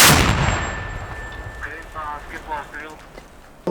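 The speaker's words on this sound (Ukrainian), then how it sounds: "Постріл!" A single sharp, loud gunshot at the start on the Bakhmut front, decaying into a long rumbling echo, followed by faint distant background sounds.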